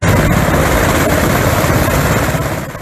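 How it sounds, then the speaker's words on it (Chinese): A search-and-rescue helicopter sits on a school sports field, its engine and rotor giving a loud, steady, close roar that fades slightly at the end, with no voices. "搜救直升机停在操场正中央，几名救难人员背着装备快步跑上飞机"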